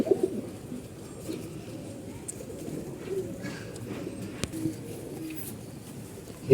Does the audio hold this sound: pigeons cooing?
yes